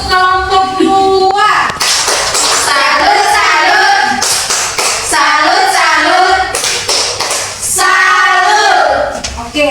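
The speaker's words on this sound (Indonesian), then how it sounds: "Oke, tepuk tangan. Satu kali untuk kelompok 2." A classroom of students claps together for a presenting group, bursts of hand clapping mixed with chatter and children's voices, lively and close.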